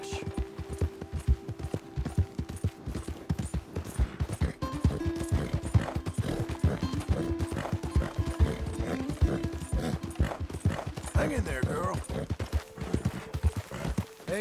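Horse hooves clip-clopping at a steady trot in the Red Dead Redemption 2 video game, close and rhythmic, mixed with creaking tack and mechanical rattles, with a few brief vocal sounds over the top.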